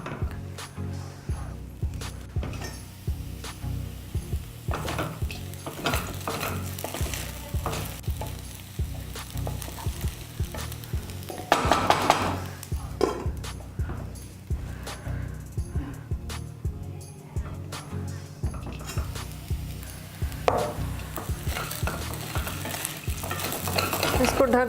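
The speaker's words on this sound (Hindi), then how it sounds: "चला के फिर कुछ देर ढकेंगे, फिर से चलाएंगे।" Sabudana khichdi is stirred in a pan as it cooks, with a spoon scraping and clinking against the metal in a steady, continuous rhythm over a soft sizzle. No one talks.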